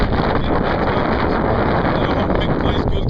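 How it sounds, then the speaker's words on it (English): Strong wind blows outdoors, a steady, loud broadband rush that buffets the microphone throughout, with no pause. "it's very windy out here today"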